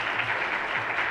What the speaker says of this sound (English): I was going to ask for a strong applause again just for having you here today.